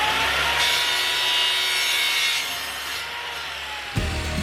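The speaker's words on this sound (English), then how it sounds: "I simply cut a few boards," Hand saw cutting through wooden boards for a picture frame, a steady rasping stroke that runs close and loud for a few seconds, then stops with a brief knock.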